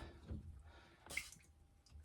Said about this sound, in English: You just need to let that water out and let it drip into there.